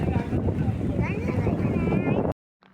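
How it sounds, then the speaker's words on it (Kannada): A diesel engine drives a launch ferry on the water, making a loud, steady rumble mixed with wind buffeting and voices talking over it, until it cuts off abruptly near the end. "ಲಾಂಚಲ್ಲಿ ಇಂಜಿನ್ ಎಲ್ಲ ಇಲ್ಲಿ ಇಟ್ಟಿದ್ದಾರೆ."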